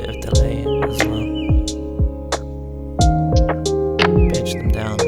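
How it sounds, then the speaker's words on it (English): A bird song sample layered into a lofi beat made on a Digitakt, with reverb and lowered volume; short chirps recur over a steady rhythm of thumping drums and sustained tonal chords. "There's those birds that I mentioned. I'm adding them in."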